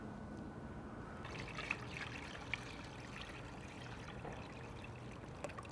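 Brine is poured into a briner bucket for pork tenderloin medallions, a quiet continuous trickle and splash of liquid with a couple of faint clicks and no speech.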